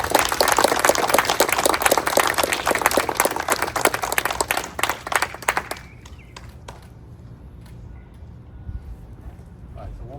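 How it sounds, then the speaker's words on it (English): Applause at a U.S. Army promotion ceremony, dense clapping from a gathered crowd for about six seconds before tapering off abruptly into a few scattered claps and quiet room noise. "Round of applause, please."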